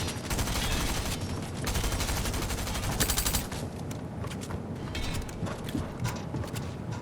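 Rapid bursts of gunfire in a Fortnite match crackle in dense fusillades, with short pauses and mechanical clatter between bursts, loud and busy throughout.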